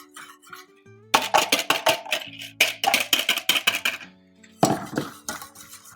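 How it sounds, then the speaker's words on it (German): Metal utensils clattering and scraping against a pot while starch and sugar are stirred into a mixture for homemade vanilla pudding, a rapid run of clinks, a pause, then more stirring, close and alone without talk. "Schön gut durchrühren, damit das nicht klumpt."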